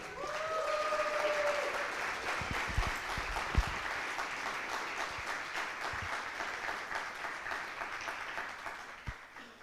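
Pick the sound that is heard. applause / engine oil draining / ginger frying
applause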